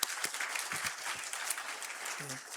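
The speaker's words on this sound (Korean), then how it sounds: "서로 환영하는 박수 하도록 하겠습니다" A church congregation at an ordination service claps in welcome, a dense, steady patter of many hands lasting a few seconds, with faint voices underneath.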